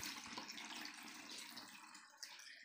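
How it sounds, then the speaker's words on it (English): Water trickling and splashing steadily through the pipes of a homemade drip irrigation model fed from a water tank, a continuous close, moderately quiet wash with a small splash near the end. "so the water will go through these pipes and I have done some holes here so that the water will come in the pots"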